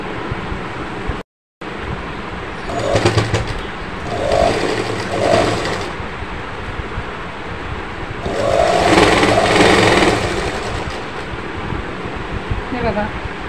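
A sewing machine stitches a seam on a kurti, its motor whirring in several bursts, with someone speaking over it throughout.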